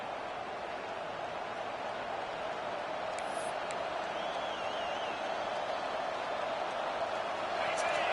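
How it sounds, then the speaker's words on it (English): Stadium crowd roar in a college football video game, a steady loud wash of cheering fans filling the whole stretch and swelling slightly toward the end, with faint commentary in the background. "Listen to this crowd just shaking the girders of this place, trying to help their defense."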